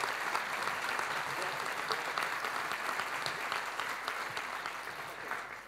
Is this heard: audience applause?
yes